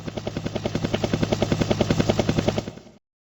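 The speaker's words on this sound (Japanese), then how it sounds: "これはヘリコプター。" Helicopter rotor chopping in a fast, regular thudding pulse, loud and close, holding steady before fading out after about three seconds.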